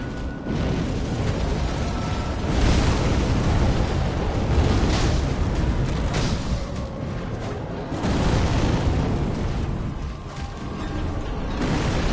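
A towering boss demon, the Demon of Hatred in Sekiro, charges through the Ashina Outskirts, its fiery rush a continuous loud roaring rumble with heavy booming surges and bursts that swell and recede repeatedly.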